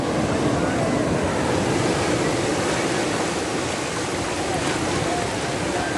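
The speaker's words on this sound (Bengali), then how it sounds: "তো পানি আসছে, ঢেউ পানি আসছে।" Sea waves washing in at Cox's Bazar beach during a high tide, a steady, loud broadband roar of surf filling the whole stretch without a break.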